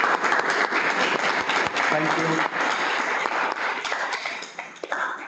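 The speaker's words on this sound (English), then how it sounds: "let's give a big round of applause to our speaker" A room audience applauds a speaker after an electrochemistry research talk. Dense, loud clapping from many people fills the whole stretch, with a brief voice speaking over it before the applause thins out near the end.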